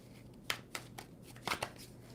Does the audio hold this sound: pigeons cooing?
no